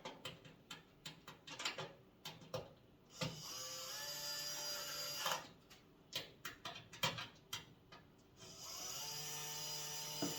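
Power screwdriver driving screws while a Nexgrill 2-burner portable propane griddle grill is assembled, with sustained whirring bursts alternating with short ticking clicks, close and fairly loud, no talking.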